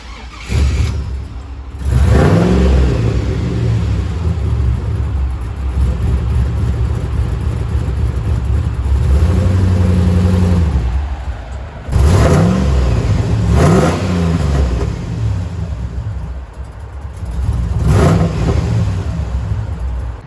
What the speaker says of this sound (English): If you guys couldn't already tell, this is no ordinary Toyota Tacoma. Under the hood we have a whopping 6-liter V8 engine.